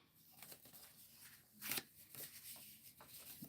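Tarot cards being gathered and shuffled by hand, a quiet series of soft riffling and flicking sounds with one brief sharper riffle near the middle, close and low in level, with no talking.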